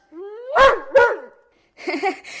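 A dog in an audio drama gives two quick, close, loud barks followed by a shorter, rougher yip-like sound after a brief pause.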